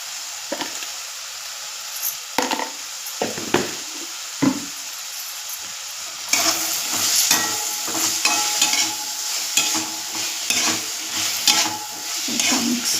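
Capsicum and potato vegetable sautéing in a pan over a low flame, with a spoon stirring and scraping at intervals; a quiet sizzle grows steadier and louder partway through, broken by clacking strokes against the pan.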